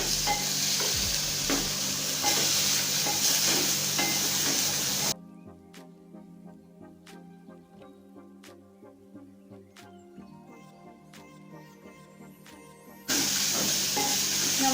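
Onion cooking alone in a pot as the first step of a beef stew for matoke, with steady loud frying hiss and stirring at the start and end, and a quieter stretch of faint crackle between.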